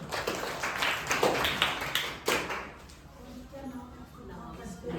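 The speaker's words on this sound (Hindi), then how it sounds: "प्लीज एक बार अर्नव के लिए तालियां बजा दें" Applause for a seventh-grade student named Arnav at a Guru Nanak Gurpurab celebration: a few seconds of scattered clapping from a small audience, then it fades into a quiet room.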